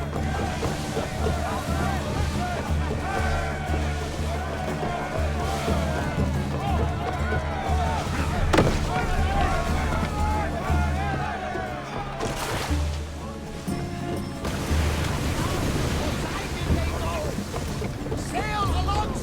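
An ancient Greek sailing ship cuts through sea waves in Assassin's Creed Odyssey, with steady rushing water and wind throughout while voices talk over it.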